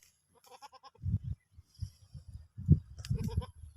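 Boer goats on a farm in Oriental Mindoro bleating repeatedly, a series of wavering, nasal calls of varying loudness from fairly close by, with no talking.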